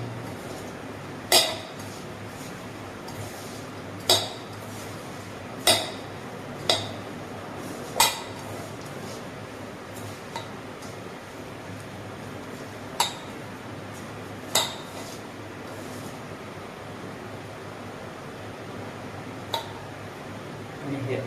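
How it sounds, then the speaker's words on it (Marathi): Garlic, oil and salt being mixed in a pot, with a dozen or so spaced metallic clinks of a spoon against the vessel over a low kitchen background hum. "हे आता आपल्याला लसूण तेल आणि मीठ असं मिक्स करून घ्यायचं आहे."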